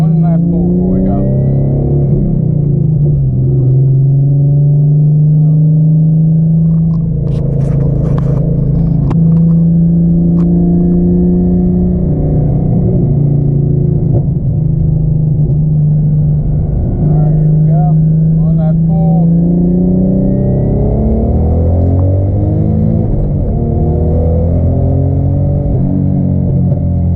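Twin-turbo V6 Mustang making a boost pull with the boost controller turned up: a loud, steady engine drone that climbs in pitch near the end as the car accelerates, with faint wind and road noise underneath.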